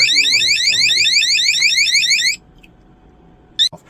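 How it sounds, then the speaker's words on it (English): A Govee water leak sensor shrills a loud, rapid warbling alarm for about two seconds, then stops abruptly, followed by a brief second chirp. "when the sensor here gets wet, you'll get an alarm sound like such"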